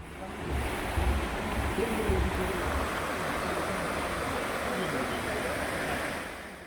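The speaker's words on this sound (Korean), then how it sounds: "계곡 물소리가 정말 우렁차네요" Loud, steady rush of water fills the whole stretch, a dense broadband roar like a fast stream tumbling over rocks, close by and continuous, from a valley stream in Wonju, Korea.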